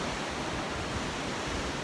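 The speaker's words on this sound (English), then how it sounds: "I will show you the waves of Impossible and Bingin" Low-tide ocean waves at Impossible beach in Bali give a steady, dense wash of surf noise with a slight windy hiss throughout and no voices.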